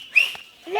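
Someone whistles a short, shrill call in a Maithili comedy sketch, a quick rising note near the start and another rising whistle at the end, with a brief voice sound in between.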